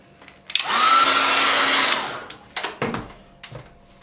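A hair dryer blasts for about a second and a half, drying a watercolour sky painting, its loud, even whoosh switching on and off, followed by a few light taps and handling knocks.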